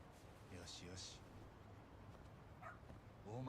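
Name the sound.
dog barking and whimpering in video game Lost Judgment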